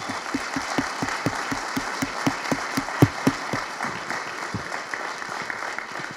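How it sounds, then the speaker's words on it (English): An audience at a University of Louisville strategic plan event claps steadily in a room; the individual claps form a dense, moderately near rhythm across the whole stretch, with a few sharper hand strikes standing out. "Let's give Neely a huge round of applause."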